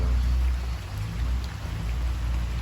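Rain falls steadily and close by, a continuous dense patter with a low rumbling undertone and no speech.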